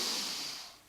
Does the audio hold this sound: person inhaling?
yes